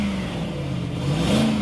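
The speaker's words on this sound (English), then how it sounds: "the engine sounds amazing" A Range Rover Vogue engine with about 129,000 on it and an LPG conversion, revving steadily and loudly up close, a continuous rising drone with no talk over it.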